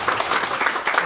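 An audience at a Hindi comedy stage play claps in a short, uneven burst, the handclaps loud and close with no clear voice on top.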